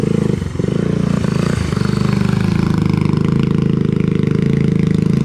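A 1986 Honda ATC250 Big Red three-wheeler engine warms up at a steady, loud idle nearby, its low chugging pulse running evenly through the whole stretch with no voices over it.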